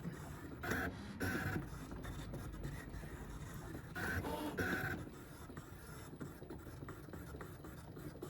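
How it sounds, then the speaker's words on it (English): A Brother ScanNCut cutting machine quietly cuts labels, a faint motorized whir with soft repeated bursts of carriage movement and brief higher-pitched buzzes. "you're going to notice just how quiet this machine is"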